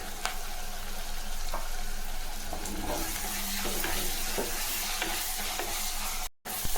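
Onions frying with turmeric and salt in a pan give a steady, close hiss of sizzling oil with occasional soft stirring scrapes, continuous and fairly loud until a brief cut near the end.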